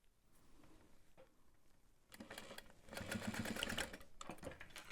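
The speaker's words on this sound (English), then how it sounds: "I'm gonna top stitch this at a 1/2 inch" A sewing machine top stitches a tote bag seam at a half-inch allowance, starting with soft intermittent stitching and then running in a steady, louder close-up whir for several seconds before easing off.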